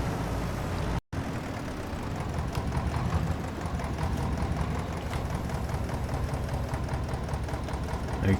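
A narrow vineyard tractor's engine in Farming Simulator 22 idles and chugs with a steady low rumble and rapid mechanical ticking, briefly cutting out once before carrying on, with faint talk at times.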